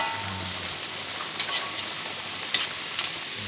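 Sweet potato curry puffs frying in hot oil, a steady close sizzle and bubbling crackle with a few sharper pops, without any talk.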